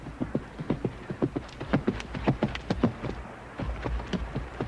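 Horse hooves clip-clop in a steady, fairly close rhythm from a film scene, a run of distinct hoof strikes with a brief pause near the end before they resume.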